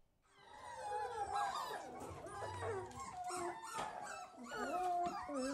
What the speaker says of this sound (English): post the video of these puppies when they were in the crate for the first day or two